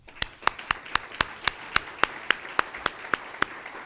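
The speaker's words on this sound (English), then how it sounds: "Let's give him another applause." Sparse handclaps at a 2017 State of the City event, about a dozen sharp, evenly spaced claps in a steady rhythm over a quiet background.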